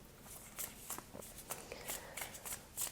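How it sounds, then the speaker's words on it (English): Playing cards riffled and shuffled by hand in a series of crisp, papery bursts, each ending in a soft snap, close and with no voices. "let's shuffle this next deck of cards"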